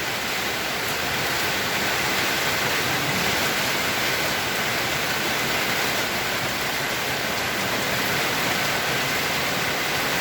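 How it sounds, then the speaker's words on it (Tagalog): Heavy rain with strong wind pours down in a dense, unbroken roar, loud and steady throughout with no voices. "Grabe, napakalakas ng ulan."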